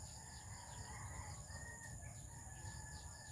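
Black asil chickens cluck and crow faintly at a distance, a soft, steady backdrop of fowl sounds with no clear close call.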